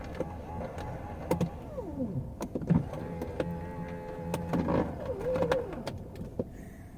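A failing power window regulator in a car strains and whines through several slow, uneven motor runs on a snowy 10-degree day, with clicks and knocks between pulls, close and moderately loud.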